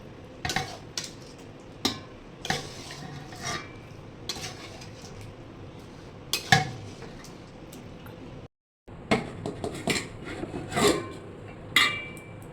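Dry, slow-cooked meat is spooned into a pot of water, marked by repeated metallic clinks and scrapes of a utensil against cookware at an irregular pace, with one brief silent gap.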